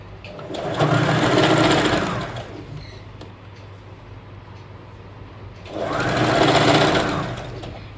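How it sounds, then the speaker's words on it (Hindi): A sewing machine stitches the pleat line on a ready-to-wear saree in two loud, steady whirring runs, each about two seconds long, separated by a quieter pause. "उसी को रख के उसके ऊपर बस मैं स्टिच करते जाऊंगी"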